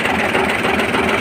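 A vehicle engine idles steadily and evenly after installation of a TGT apparatus, a smooth continuous hum with no wavering.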